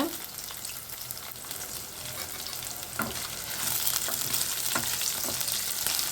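Dried red chillies fry in a pan for a spicy kara chutney, giving a loud, dense sizzle that swells partway through, with occasional stirring knocks and scrapes; no voices.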